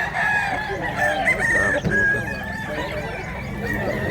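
A big one-year-old rooster crows loudly and close by, its long drawn calls repeating over steady clucking and background farm noise, with faint voices in the distance.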